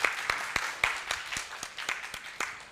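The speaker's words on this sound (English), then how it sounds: "So again, big applause." Sparse, scattered hand claps from a small group, irregular and fairly faint, with no voices over them.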